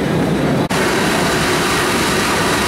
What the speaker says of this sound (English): This is pumping seawater through the pump into the main condenser, comes back out and returns through that valve to the sea.